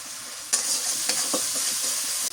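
Spices with garlic paste, turmeric and salt fry and get stirred in a pan, giving a steady close sizzle broken by sharp scraping stirs of the spoon over about two seconds, with no voices.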